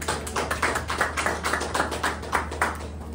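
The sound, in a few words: audience applause at inauguration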